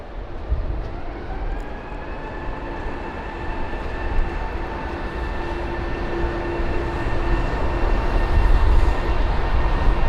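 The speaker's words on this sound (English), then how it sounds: "So the British Airways A380." British Airways Airbus A380 rolling for departure, a broad steady engine roar with sustained whining tones that grows louder toward the end, heard alone with no talking.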